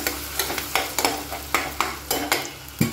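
Food fries in a pan under a steady background sizzle, with about nine evenly spaced stirring scrapes from a spatula, close and clear.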